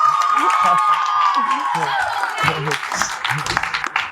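Students cheering and clapping in a birthday surprise for a teacher; loud shouts and whoops rise over steady clapping, with excited voices calling out throughout.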